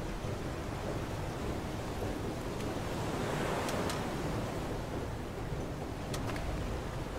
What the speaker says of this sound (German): Seegang, Freunde.